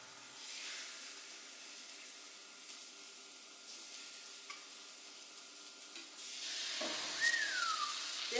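Seasoned chicken hits a hot pan and sizzles in a steady hiss that swells louder toward the end, with soft stirring and scraping and no talk.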